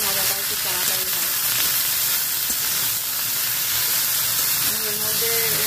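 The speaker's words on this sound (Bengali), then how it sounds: "আমি আলুটা ভাজার সময় যখন আমি আলুটা ভাজি তখনও আমি আলুটা একটু ঢেকেই দিই" Potatoes frying in a covered pan give a dense steady sizzle and hiss, close up, with faint background voices or tones underneath.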